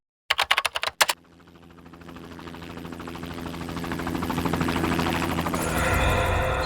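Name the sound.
helicopter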